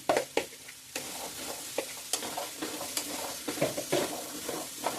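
Chopped bitter gourd fries in a hot pan for a palya, with steady close sizzling and repeated scraping stirs of a spatula against the pan in an irregular rhythm, no voices.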